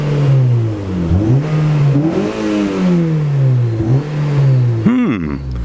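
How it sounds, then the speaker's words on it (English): A stock 2012 Honda Civic Si with the e-brake set revs in neutral, its engine rising and falling through several throttle blips, loud and close, ending in a sharp high rev. "Let's rev it up for a second."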